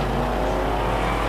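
Superstock race cars racing around a track, a thick unbroken engine roar with a deep rumbling low end, steady and loud throughout without any voices.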